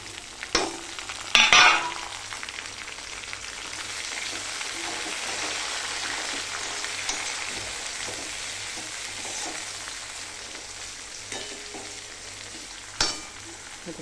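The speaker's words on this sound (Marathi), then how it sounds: "आता मी टमाटर आणि कोथिंबीर टाकून देते" Tomatoes and coriander hit hot oil with fried onion and garlic and are stirred. A steady sizzle runs throughout, with a few louder scraping stirs near the start and end.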